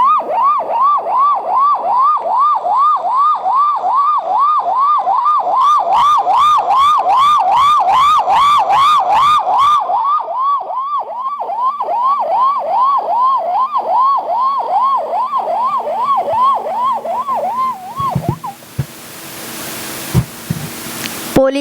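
A mimic's voice imitates a police vehicle siren with a loud, steady wailing rise-and-fall that repeats rapidly for about eighteen seconds, briefly thickened by a harsher pulsing layer midway, then breaking off into scattered noise.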